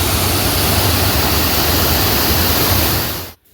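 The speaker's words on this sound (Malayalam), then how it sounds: "ഒരു പാലരുവി പോലെ വെള്ളം പതഞ്ഞൊഴുകും." Monsoon water foaming and rushing down a stream at Chathan Chera Kodumbu, a loud, dense, steady roar close by with no voices, cutting off abruptly at the end.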